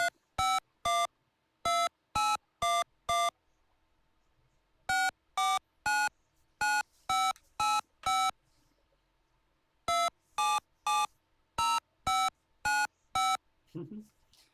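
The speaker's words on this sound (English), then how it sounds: "you can hear it a little bit inside, when you listen to the numbers being dialed" A TI BASIC program on a home computer plays touch-tone dialing beeps in three bursts of rapid clipped tones separated by short pauses, loud and clean, with a faint low hum underneath.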